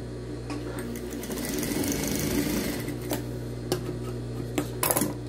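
A sewing machine runs steadily as it stitches a fabric pet harness, a close, continuous mechanical whir with light ticking and a few small clicks toward the end.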